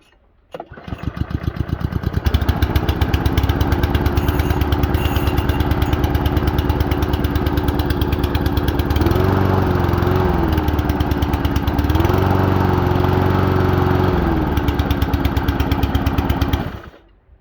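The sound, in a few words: petrol lawn mower engine starting and running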